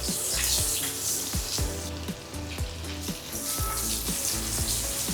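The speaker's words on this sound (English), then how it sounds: "when we frying the fish, we should always put the skin side bottom" Sea bass (chonak fish) sizzles skin side down in a hot pan, a steady close frying hiss with crackling pops throughout.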